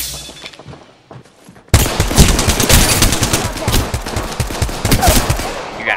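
Video game gunfire breaks out suddenly after a quiet stretch, loud rapid automatic bursts and overlapping shots filling the rest of the clip with no pause.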